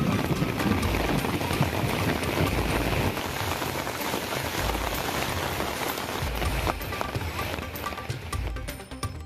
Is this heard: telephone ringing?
no